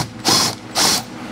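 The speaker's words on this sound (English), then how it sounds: "I'm gonna go ahead and start by removing all of these 10 millimeter bolts that are on here." A ratchet wrench clicks through two quick bursts of pawl ratcheting, close and crisp, while loosening 10 mm bolts on a Mazda Miata engine cover.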